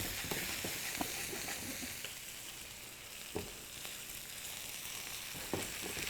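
Steaks sear in a hot pan, a steady bright sizzle and crackle with occasional sharper pops, close and continuous with no talking.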